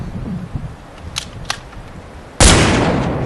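Nerf Gun 2.0 toy blaster firing with one sharp, loud burst and a short fading tail, preceded by faint mechanical clicks and quiet handling noise.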